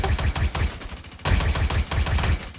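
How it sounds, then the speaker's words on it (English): Rapid bursts of automatic gunfire in the video game Star Citizen, a dense rattling stream of shots with a brief gap in the middle, fairly loud and with no voices. "Hearing gunfire."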